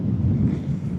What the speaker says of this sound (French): ça y est, le vent se lève.